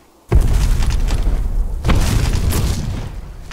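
A grenade blast in the online shooter Black Squad during a clan match, a loud booming burst followed by a second rumbling explosion, both sustained and fading slowly.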